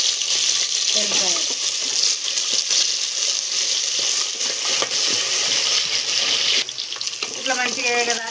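Green chillies fry and sizzle steadily in a pan over a hiss of running water, with a few clinks of metal and faint kitchen noise throughout.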